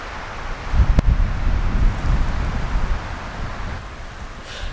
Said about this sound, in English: Boy, the wind is blowing up here.